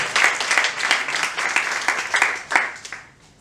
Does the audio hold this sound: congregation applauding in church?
yes